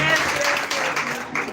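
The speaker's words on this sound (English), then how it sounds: "clap for me, clap for me" Audience clapping at a launch event in Zambia, a brief dense patter of applause with voices mixed in.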